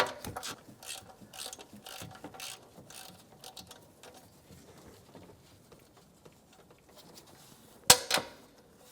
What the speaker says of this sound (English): I'm going to take that nut right off so that I can get to the actual stud holding the upper intake on